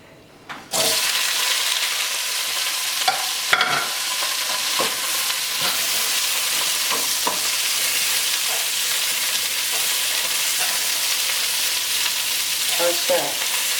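Broccoli and squash stir-frying in hot olive oil in a pan, a steady loud sizzle running throughout after the vegetables drop in, with occasional stirring clatters and scrapes.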